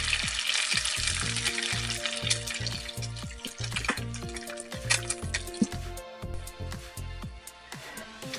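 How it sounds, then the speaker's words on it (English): An egg frying in a skillet still greasy from browned onions and meat gives a continuous crackling sizzle, brightest at the start and easing off, under a steady beat of background music. "Fry an egg."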